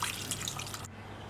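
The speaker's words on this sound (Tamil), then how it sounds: "இதில் நான் இப்போ புளி தண்ணி ஊற்றுறேன்" Tamarind water for rasam poured into a cooking vessel, a steady splashing, trickling stream that runs for most of a second and then stops abruptly, heard alone and close.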